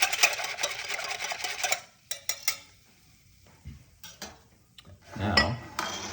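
Sourdough ingredients get whisked in a bowl: a burst of fast, rattling strokes, then scattered short clinks and scrapes separated by quiet gaps, close and moderately loud.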